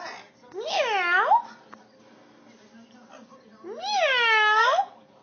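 Two drawn-out, rising-then-falling meows separated by a pause, close and clear; they may be a person imitating a cat.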